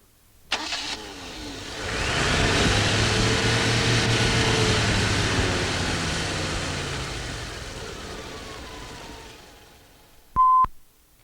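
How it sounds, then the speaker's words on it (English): A car with a Lucas DC dynamo charging system starts with a short crank, revs up to around 3000 rpm and holds there, then slowly drops back in speed, followed by a brief electronic beep at the end. "Start the car and run the engine up to charging speed, about 3000 revs per minute."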